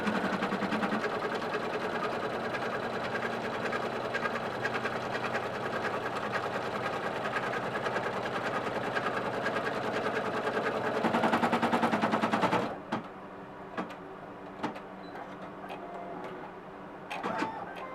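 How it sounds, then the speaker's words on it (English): An embroidery sewing machine stitches a lining piece in the hoop for a front-zip clutch bag, giving a steady, fast mechanical whir for about twelve seconds before stopping, followed by faint scattered clicks. "now I'm going to sew the top lining piece on"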